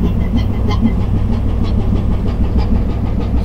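A ship's engine runs dead slow astern while manoeuvring out, a loud, steady low rumble and throb with a faint rhythmic clatter above it, continuous and close.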